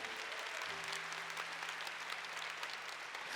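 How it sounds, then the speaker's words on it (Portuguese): Steady applause from a congregation during a Catholic priest's sermon, continuous and even, heard somewhat faint and distant with a low hum beneath it. "Vamos aplaudir essa verdade com alegria?"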